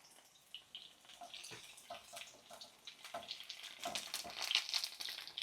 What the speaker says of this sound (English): Fry this okra till light golden